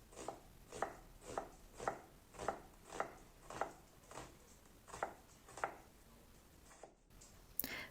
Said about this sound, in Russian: Лук также нарезали очень мелко.